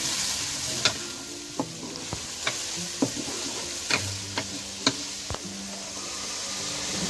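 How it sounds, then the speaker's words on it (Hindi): Green chilies fry in oil for a village-style matar pulao. A soft, steady sizzle runs throughout, broken by a scattering of sharp utensil knocks as the pan is stirred. "इधर मिर्चें भी फ्राई हो जाएंगी।"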